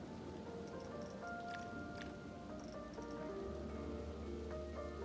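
Steady rain from the Planet Coaster 2 video game hisses throughout, with faint tonal park sounds layered underneath and no voices.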